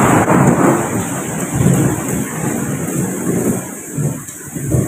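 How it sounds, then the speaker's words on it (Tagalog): Heavy thunderstorm with loud rumbling thunder and steady pouring rain, close and continuous throughout, with no voices. "Grabe, lakas ng kulog at kidlat."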